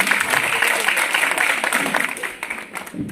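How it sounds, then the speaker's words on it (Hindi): Audience at an International Women's Day celebration in a party office in Kathua applauds, a loud burst of clapping with uneven, fluttering peaks that thins toward the end, with a voice faintly mixed in. "एक बार जोरदार तालियां"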